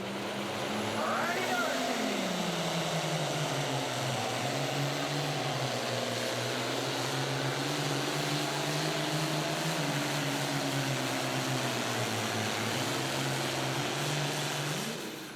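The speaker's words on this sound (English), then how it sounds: "One tractor yet to go here in the Super Farm category at the Napa Pro Pulling Nationals presented by Wyotech" A tractor engine in the Super Farm class, an International named Positive Ground, roars steadily at a pro pulling nationals event, a loud sustained drone that rises and falls slightly in pitch with faint talk over it.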